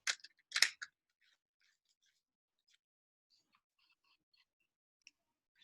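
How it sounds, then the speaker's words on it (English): A pack of markers being opened: a few sharp crinkling, clicking bursts close up at the start, then faint scattered taps and rustles in near silence. "we're going to open our markers"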